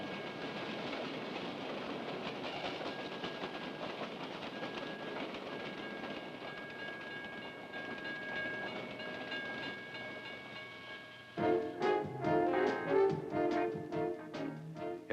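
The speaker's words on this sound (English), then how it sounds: "There are a lot of different kinds of railroad cars." Freight train railroad cars roll past with a steady rumbling hiss, then a louder stretch of rhythmic clattering and metallic squeals as the wagons go by close at hand.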